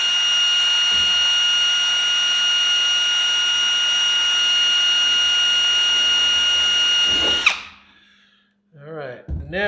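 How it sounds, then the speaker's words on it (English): A power drill with a number 40 bit whines steadily at high pitch for several seconds, drilling a hole in a Zenith CH650 elevator access cover, then spins down and stops, followed by brief handling noises and a short burst of talk. "Take the number 40 drill bit and drill the first hole."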